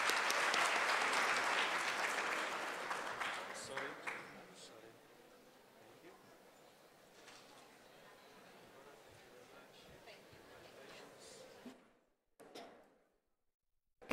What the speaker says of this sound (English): I think that we can grant them a very warm applause.